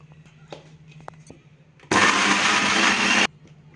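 A kitchen mixer grinder runs dry on grated beetroot, green chillies, garlic, ginger and salt, a loud steady whirring burst of about one and a half seconds that starts and stops abruptly after a quiet stretch.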